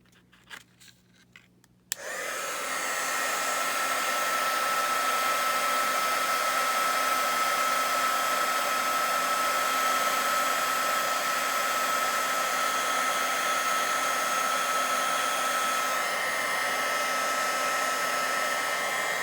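A crafting heat tool switches on after a brief quiet moment and then blows hot air in a steady, loud, continuous whir with a faint high whine, close by, with no speech.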